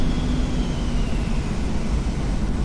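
An airliner taxiing to the gate in X-Plane 11 gives a steady, close, rushing jet engine drone with a faint high whine gliding slowly downward, and no other sounds.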